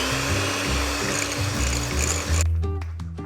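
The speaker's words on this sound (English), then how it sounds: "You're gonna mix the egg whites together with some sugar and also some cream of tartar." An electric mixer whirs loudly and continuously as it beats egg whites with sugar and cream of tartar, then shuts off abruptly, leaving faint clatter.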